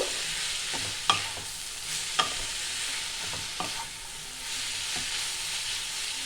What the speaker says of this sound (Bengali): তারপরে ভালো করে আমি নাড়িয়ে চাড়িয়ে নেব।